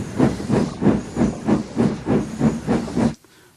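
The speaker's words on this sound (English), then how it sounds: "Gordon came past, clanking and hissing very rudely." Rhythmic bursts of steam hissing from a locomotive, about nine even chuffs in quick succession, loud and close, then cutting off abruptly.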